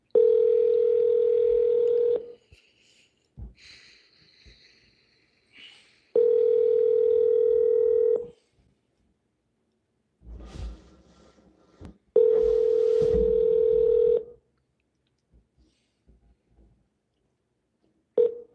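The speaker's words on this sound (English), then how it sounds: "So we're gonna triple dial her from this number." A telephone line sounds repeated long steady dial or ring tones in three separate blocks of about two seconds each, with short dialing beeps and faint clicks in the gaps between them.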